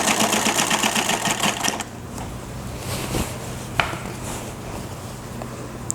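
A sewing machine stitches a pyjama waistband in a fast, close, rhythmic chatter for nearly two seconds, then stops, leaving quieter handling noise and a couple of sharp clicks.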